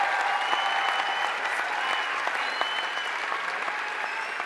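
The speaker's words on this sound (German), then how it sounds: "Wir wollen für den Emilio jetzt noch einmal einen extra Applaus." Audience applause at a sing-along choir concert, a steady wash of many hands clapping evenly from a large crowd, fairly distant and soft, continuing without a break.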